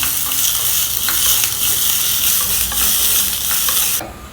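Peanuts (groundnuts) roasting in a hot pan give a steady, dense crackling sizzle with a few stirring scrapes, close and loud, dropping off at the end.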